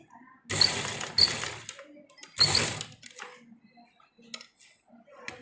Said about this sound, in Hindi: इस तरह यहाँ पर एक सिलाई लगाएंगे।